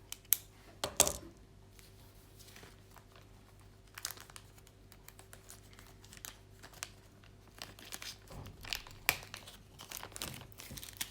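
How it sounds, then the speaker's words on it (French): Diamond painting beads poured from a pill organizer into a small plastic bag: quiet, scattered clicks and rattles of tiny beads falling, with soft crinkling of plastic in a near-silent room. "Je prends mon sachet restant, mon pilulier, et je verse dans mon sachet."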